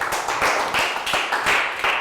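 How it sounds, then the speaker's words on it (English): A classroom of young schoolchildren gives a quick round of applause, a loud, close patter of many small hands clapping in uneven bursts for a couple of seconds. "Round of applause for Lakgao"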